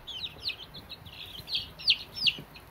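Chickens, including a golden lace hen, cluck and chirp in short, scattered bursts against a steady background hiss, moderately close and fairly soft.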